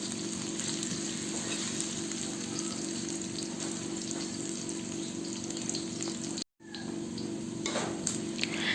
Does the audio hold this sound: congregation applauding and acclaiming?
no